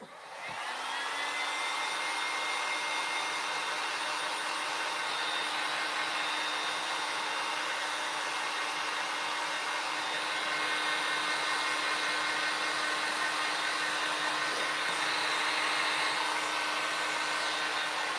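A hair dryer blows steadily and close for the whole stretch, drying a fresh coat of yellow paint on a craft insert, with a constant whooshing motor tone and no talk.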